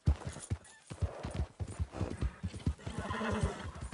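A horse in Red Dead Redemption II trotting and galloping with rapid rhythmic hoof clip-clops, occasional whinnies, close and prominent.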